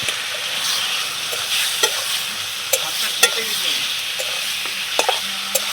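Chicken frying with chopped tomato and Kashmiri chilli powder in a pan, a loud continuous sizzle punctuated by sharp clicks and scrapes of a spoon stirring against the metal, close and without talk.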